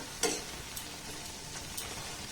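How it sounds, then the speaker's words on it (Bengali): Egg and banana pitha fry in hot oil, giving a soft, steady sizzle with a few sharper crackles and a stirring clink, fairly quiet and close. "এগুলোকে দেখুন খুব সুন্দর করে ভেজে নিয়েছি, দেখুন কত সুন্দর কালার হয়েছে।"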